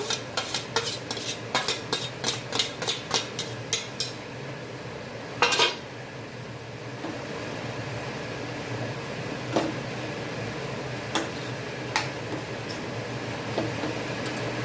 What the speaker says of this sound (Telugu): ఇప్పుడు ఈ దోసకాయ కూడా వేసుకుంటాం